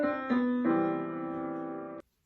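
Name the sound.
chords played in Ionian major mode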